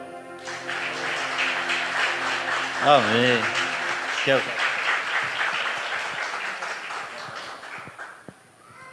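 A church congregation at the Venha Teu Reino 2020 conference applauds to welcome a pastor. Sustained clapping swells under a voice, which speaks briefly, then the clapping fades toward the end.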